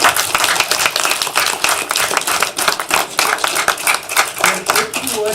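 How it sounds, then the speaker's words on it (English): An audience at a live event gives a big round of applause, with dense, steady clapping for the whole stretch mixed with loud chatter and voices underneath. "Everybody give them a big round of applause."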